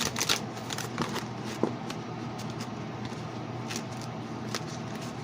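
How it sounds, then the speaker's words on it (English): Tarot cards being shuffled by hand in a quiet room, a soft, steady riffling and sliding texture with a few sharper taps, close and alone without talk. "let's do a good shuffle."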